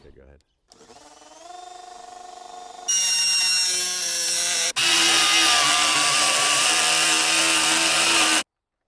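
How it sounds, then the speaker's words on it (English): A power drill whirs steadily, stepping up to a louder, harsher grinding hammer action as it drills into masonry, running continuously for several seconds before cutting off. "It's an impact driver and it's a hammer drill."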